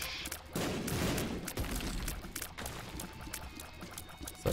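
Rapid, continuous shooting fires in The Binding of Isaac Afterbirth, a dense stream of quick pops running throughout at moderate level with no voices.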